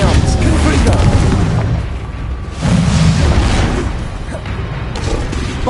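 A Confringo fire-blast spell goes off in the Hogwarts Legacy video game, giving loud, heavy booming explosions that roll on in two big surges with a brief dip between them, filling the whole stretch.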